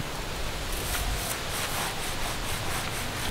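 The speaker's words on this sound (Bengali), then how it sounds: "কাপড় দিয়ে ঘষে নিয়ে আবার হাত দিয়েও ঘষে নিচ্ছি।" Chickpea dal being pressed and rubbed by hand inside a cloth, giving a steady, close, dense rustling scrape with a soft rhythmic swish.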